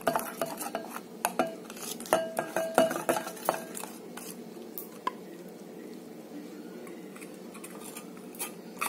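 Honey and lemon juice dressing whisked in a bowl for a salad, with quick clinking utensil strokes against the dish that are busy at first, then thin out to scattered soft scrapes and taps.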